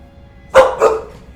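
Two sharp dog barks close by, the second following about a quarter second after the first, loud against a quiet room.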